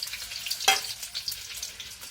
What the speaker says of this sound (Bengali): এবার একটা কড়াইয়ে পরিমাণ মতো তেল দিয়ে তাতে রসুন আর মরিচ দিয়ে দেব